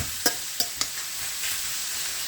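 Ground beef frying in a pan over medium-high heat, a steady close sizzle broken by a few sharp scrapes of a utensil stirring the meat near the start.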